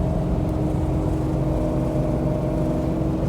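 A 1969 Shelby GT500 drives along at speed, its engine a dense, steady low drone blended with road and wind noise, heard from inside the car without speech.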